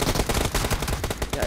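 Rapid automatic gunfire in a squad-based online shooter video game, a dense burst of shots running continuously and loudly from close range with no talking over it.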